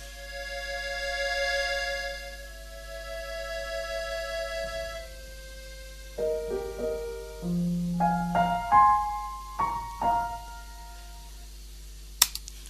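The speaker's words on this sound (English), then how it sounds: "the sync parts for the piano accordion and piano sound like this" Soft sustained piano accordion chords give way to plucked piano notes in a gentle melody, ending with a sharp click.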